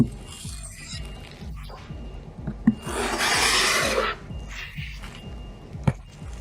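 Trowel spreading thermal filler onto a surface: close, raspy scraping and smearing strokes with a longer gritty swipe in the middle, small clinks between passes.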